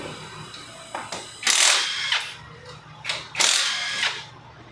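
Ratchet wrench loosening the 8mm cylinder head bolts on a Yamaha Mio Soulty scooter engine, with quick clicking bursts and a few louder pulls close up, no talking.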